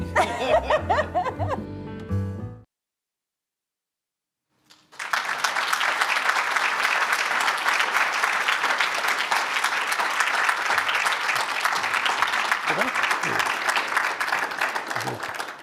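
After a brief stretch of talk and a short silence, a large audience at a community event bursts into sustained, loud applause mixed with some laughter, lasting to the end.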